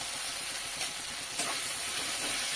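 Ginger, green chilli and garlic paste sizzles steadily in a hot pan with tomato, a loud continuous frying hiss with a brief spitting burst partway through.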